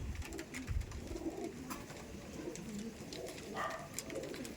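Soft, low coos of Benarasi Chini Kaldom pigeons repeat over a quiet background, several birds calling close by with faint rustles in between.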